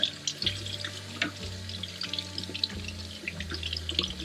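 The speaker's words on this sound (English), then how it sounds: "and just run it under water." Fishing gear rinsed under a running tap to wash out sand: a steady stream of water splashing and gurgling in a sink, with clinks and rattles of the gear being handled close by.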